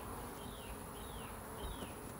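Bees buzzing around an open hive plagued by hive beetles, a soft continuous drone with a few thin higher whines drifting past, fairly faint and without talk.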